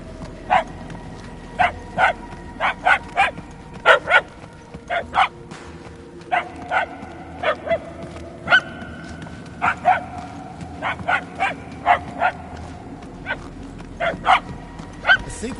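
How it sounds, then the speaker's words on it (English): Repeated dog barks from the game Guardians of the Galaxy, sharp and evenly spaced in short bursts throughout, fairly close over a low ambient game backdrop. "The barks are getting louder, at least."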